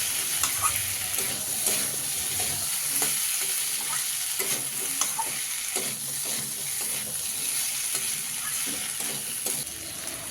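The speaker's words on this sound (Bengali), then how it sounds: "তো হলুদটা দিয়েও দেখো ভালো করে আমি কিন্তু আলুটার সাথে মিশিয়ে নিচ্ছি।" Turmeric being stirred into potatoes frying in a pan, with a steady close sizzle and intermittent scraping stir strokes throughout.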